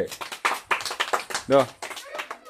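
Several sharp hand claps ring out in quick irregular bursts during a guess-the-number party game, close and crisp, with voices talking over them.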